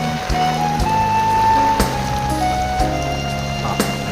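Heavy rain falls steadily and loudly over a wide village river beside paddy fields, a dense continuous hiss with occasional sharper splashes and thuds, no talk.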